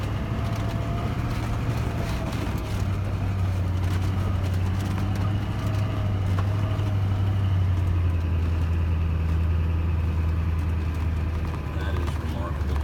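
Hummer H1 Alpha creeping forward in low range onto a sideways concrete slope at a proving ground, a low, steady engine drone throughout with a faint rumble and scattered clicks, people talking over it.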